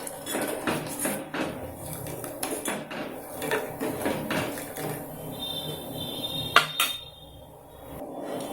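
Sweet gram flour and milk mixture stirred in a pan on the stove, with repeated scraping and clinking of a spoon against metal and a sharp knock near the end.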